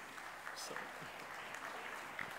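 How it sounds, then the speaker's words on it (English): Audience applause at a conference forum in Kolkata, a steady wash of many hands clapping heard faintly from a distance. "give a big round of applause to our speaker"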